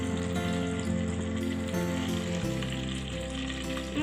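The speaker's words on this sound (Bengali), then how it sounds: "আমাদের বাটার আর তেল এবার সিমার করতে শুরু করছে" Bay leaves and cloves sizzle in simmering butter and oil, a steady close frying hiss over a sustained tonal background.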